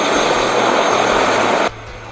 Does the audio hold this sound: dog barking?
no